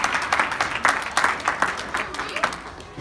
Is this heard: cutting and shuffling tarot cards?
no